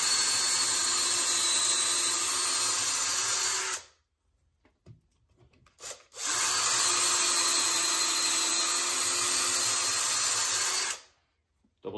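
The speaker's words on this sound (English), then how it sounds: "I'll drill a hole" Power drill bores a hole into a wooden bowl blank for a 14-inch bowl in two loud, steady runs of about four seconds each, separated by a short pause with small handling knocks, heard close up with no talk.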